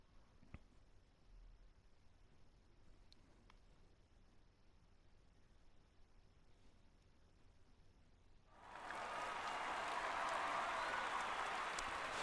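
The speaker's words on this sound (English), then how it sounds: "we see the cheering and clapping audience" A crowd of spectators cheers and claps in an F1 racing video game, the applause rising suddenly after a long quiet stretch and holding as a loud, dense wash to the end.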